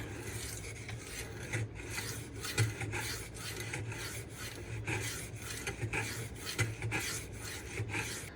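A Cold Steel Swift knife blade rasps across a DMD 1K-grit diamond stone in quick regular back-and-forth strokes, a close, steady grinding scrape with no voices.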